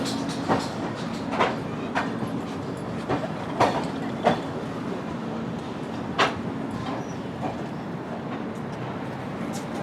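The Panvel Nanded Express train gives a low steady rumble with scattered clicks and clanks of rail cars and doors, fairly faint, with occasional voices in the background.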